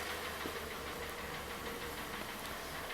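A 2014 VW Polo engine with a misfire in cylinders one and four idles close by, giving a steady, rough mechanical running with faint irregular knocking throughout.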